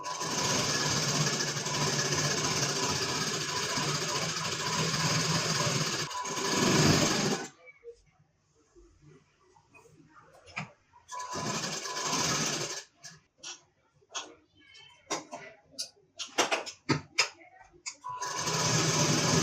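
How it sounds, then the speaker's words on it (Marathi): A sewing machine stitches the side seam of a blouse, running in a loud continuous whir, pausing abruptly, then restarting in short bursts and stop-start stitches before a final steady run. "आता इथे पण आपल्याला बाजूला शिलाई करून घ्यायचं आहे 5 नंबरची"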